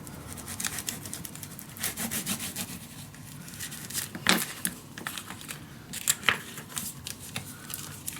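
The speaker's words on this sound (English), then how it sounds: "Also, burnish this down." Paper being burnished down by hand in a mini album made from patterned paper packs, soft, irregular rubbing and scraping strokes with a few sharper scuffs, close and fairly quiet.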